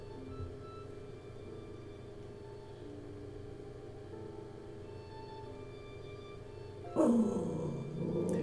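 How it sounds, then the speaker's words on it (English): A dog barks in a short, loud burst near the end, after a long stretch of low, steady hum. "Doesn't even know who's barking at him."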